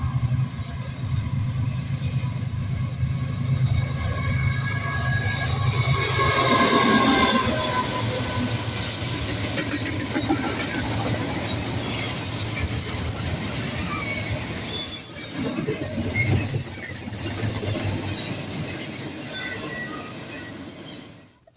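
A BNSF transfer freight train passes with a Union Pacific locomotive trailing second, a steady rumble of wheels and engines swelling around the middle and again near the end, with faint high wheel squeal above it.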